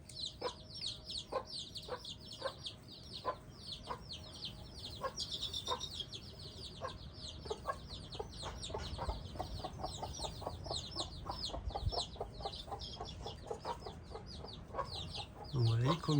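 Steady stream of small chirping peeps from many young chicks on their first outing, rapid and overlapping, with occasional lower clucks nearby.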